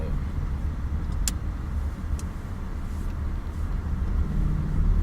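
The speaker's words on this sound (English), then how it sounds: "the car accelerates and goes straight by itself without having me to do it for it" A used car accelerates during a test drive, heard from inside as a steady low engine and road rumble that builds slightly, with a couple of faint clicks.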